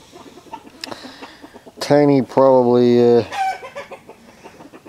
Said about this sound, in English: And yes, there's our chickens in the background.